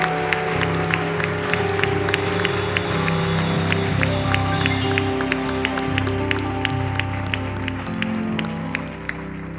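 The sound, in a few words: church congregation applauding and cheering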